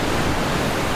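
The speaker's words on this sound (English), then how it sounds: "Wow, that was a nice splash." An ocean wave splashes at Laguna Beach, California, a dense, loud, steady wash of broadband surf noise that fills the whole moment without any break.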